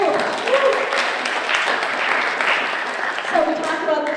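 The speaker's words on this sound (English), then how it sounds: "Applause, applause." Audience applause at a church service rises under and around a speaking voice, a moderate, steady crowd clapping that holds for several seconds.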